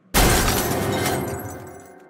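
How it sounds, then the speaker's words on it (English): A computer is smashed with a sudden loud shattering crash of breaking glass and debris, then a long ringing tail that slowly fades out, with no voices. "I smashed your computer"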